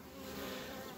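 Honeybees buzzing densely around a hive, a steady, close, enveloping hum of many wings filling the brief moment with no talking.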